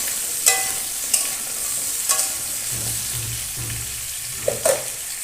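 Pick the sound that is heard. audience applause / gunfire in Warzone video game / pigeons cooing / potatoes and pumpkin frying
potatoes and pumpkin frying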